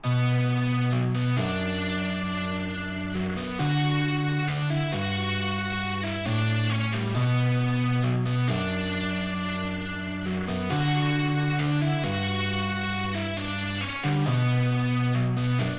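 A distorted guitar plays a simple repeating pattern of sustained higher notes, loud and alone, changing pitch every second or so.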